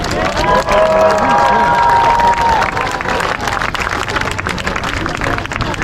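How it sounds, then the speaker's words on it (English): A rally crowd gathered against Russia's war in Ukraine claps and cheers for Senator Rob Portman, dense and close applause with shouts and a whistle-like tone rising over the noise. "Let's give it a round of applause for Senator Portman."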